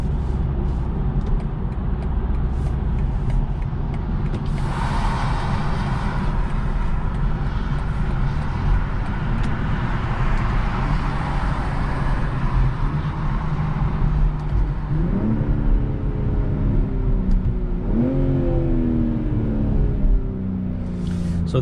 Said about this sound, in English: the engine overall sounds amazing. The exhaust setup, the engine setup, everything is just beautiful in this M440